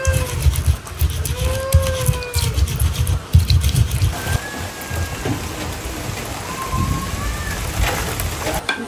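Rain falling in a village kitchen area while rice cooks, a steady patter mixed with birdsong, livestock calls and low rumbling noises, with voices chatting nearby.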